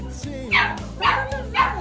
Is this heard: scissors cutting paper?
no